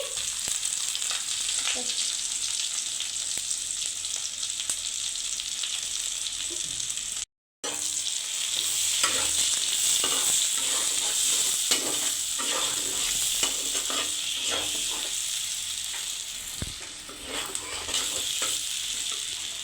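Bay leaf, cinnamon, cardamom and chopped onion frying in a pan for a chicken dish, a steady close sizzle with occasional stirring scrapes and a brief dropout partway through.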